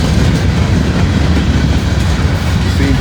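The TAG Heritage train's locomotive pulls its cars past at close range, a loud continuous rumble with rail clatter that stays steady throughout.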